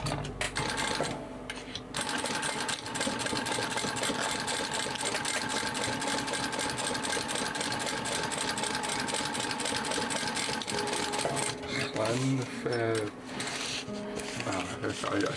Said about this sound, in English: we're going to top stitch top and bottom